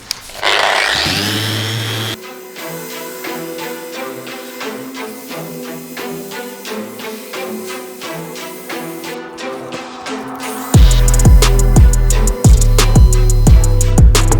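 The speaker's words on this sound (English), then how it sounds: "My patchwork seems hard enough, so let's sand it." A power sander works over a patched oak pedestal, its motor whine steady and loud with rapid rhythmic grinding, briefly louder at the start and growing heavier and deeper toward the end.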